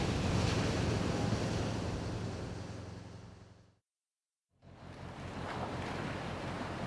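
Ocean waves surge and wash at sea during a storm warning, a loud broadband roar with wind buffeting the microphone, cutting out briefly to silence midway before the crashing surf returns.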